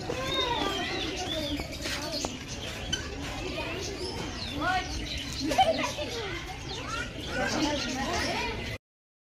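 Birds call and coo in Shilparamam, a crafts park in Hyderabad, with repeated chirps scattered through a busy outdoor scene where children play and people talk close by.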